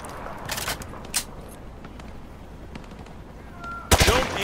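Rifle fired from the hip in Call of Duty Modern Warfare 2, a few sharp scattered shots early on, then a loud close burst near the end over steady background ambience.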